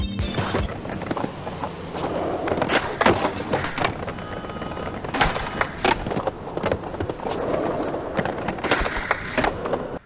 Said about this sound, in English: Skating over different surfaces is quite satisfying